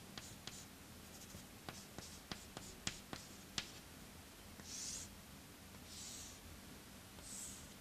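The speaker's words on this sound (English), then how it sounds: "So this is, let me just draw it." Chalk or marker strokes on a lecture board: a run of sharp, quiet scratches and taps in an irregular rhythm, then a few softer, longer rubbing sweeps, all fairly close in a quiet room.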